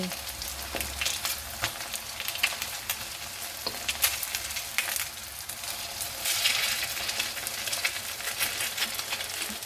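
Homemade martabak frying in a pan, giving a steady, close sizzle with crackling and occasional scraping or stirring clatter throughout.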